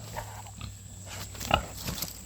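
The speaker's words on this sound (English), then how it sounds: "I love watching the pigs just kind of materialize out of the woods." Pigs grunting as they emerge from woodland on a silvopasture farm, a few short low grunts close by over steady outdoor background hum.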